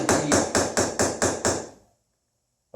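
A hammer strikes a curved liner chasing tool on steel, six evenly spaced, sharp metallic taps ringing close and loud, then a pause of silence before one more strike begins.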